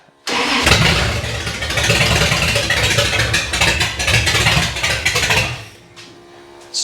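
A 1953 GMC truck engine with straight pipe exhaust cranks and catches, then idles loudly and roughly for several seconds before cutting back and dying away, heard up close with no talking.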